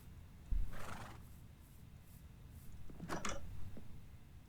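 A horse in a village in a crafting video game neighs twice: a faint, soft whinny early on, then a louder, clearer neigh near the end, over low steady background hiss.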